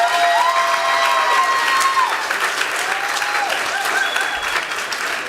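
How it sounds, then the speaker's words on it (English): Sustained audience applause fills a graduation-style student recognition ceremony, a dense wash of many hands clapping at steady loudness with faint cheering, while sustained tones sound faintly beneath it. "Let's give them another round of applause."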